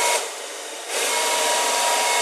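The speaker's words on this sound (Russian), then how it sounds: "Усаживаем выступающие концы пакета с помощью фена, чтобы сделать упаковку более изящной и обтекаемой." A hair dryer blows hot air to shrink the protruding ends of a polyethylene bag, a loud, close, continuous whoosh that dips briefly before returning to full strength.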